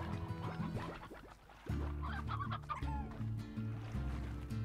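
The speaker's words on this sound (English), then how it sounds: "No, there's just a chicken there." A chicken in the Slime Rancher video game clucks in short repeated bursts over a steady low background hum of game ambience, fairly close and clear, with no talking.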